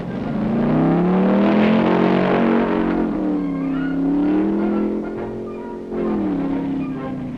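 Big championship race cars roaring up the Pikes Peak mountain course in 1965, with a loud, sustained engine drone that rises and falls in pitch as they pass, heard alone.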